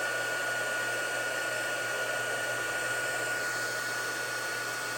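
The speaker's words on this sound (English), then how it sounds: "I'm going to grab my heat gun, and I'm just going to heat this up." A heat gun blows continuously while heating gilded leafing, giving a steady, even whooshing hum with a faint high whine and no variation in level.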